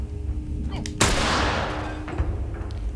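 A single loud gunshot in The Last of Us, fired from a doorway, cracks sharply and close, then its echo decays over about a second, with low background game ambience and no talk during the shot.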